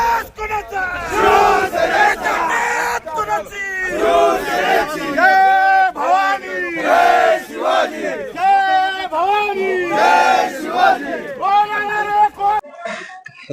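Shiv Sena supporters in Jalna roaring and chanting over Arjun Khotkar's election win, a loud crowd of massed voices shouting in rhythmic surges that continue steadily and break off sharply at the end.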